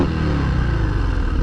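A 2023 Harley-Davidson Breakout's V-twin engine revs steadily throughout, a loud, close, continuous throaty rumble with no voices.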